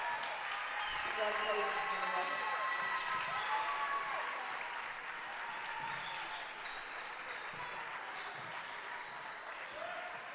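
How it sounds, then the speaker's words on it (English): Crowd in a gym at a girls' varsity high school basketball game gives a player a round of applause as she leaves the court: a broad, sustained wash of clapping under a commentator's voice. "As Maria Nihilus will come out and receive a nice round of applause."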